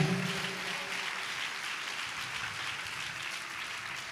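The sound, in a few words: audience clapping and applauding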